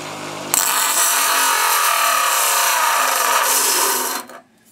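A grinder bites into non-magnetic stainless steel and throws sparks, giving a loud, steady, close abrasive whine that starts abruptly, holds for about four seconds, then cuts off, with no talking.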